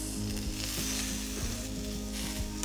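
Chicken kebabs sizzling in olive oil in a Saladmaster pan, a steady close frying hiss with faint clicks and scrapes of the pieces being moved, no talking.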